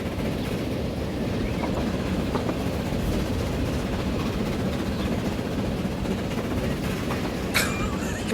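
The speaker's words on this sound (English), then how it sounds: "The train's moving faster than my camera can go!" In the Transport Fever video game, a train runs along the tracks with a continuous loud rumble and faint rhythmic clatter, heard alone with no talk.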